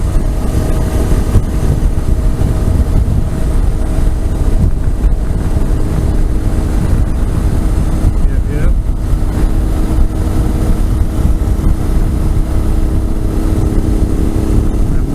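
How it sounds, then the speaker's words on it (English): A Honda NC700X motorcycle engine rumbles steadily while riding cross-country, buried in loud, constant wind buffeting over the microphone. "Bike sounds like a Harley, so I can hear from back here rumbling."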